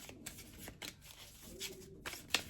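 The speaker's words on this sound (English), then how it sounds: "Just pull a few more cards." Tarot cards are pulled from a deck and shuffled, giving several soft papery riffles and slides at close range with faint background hiss.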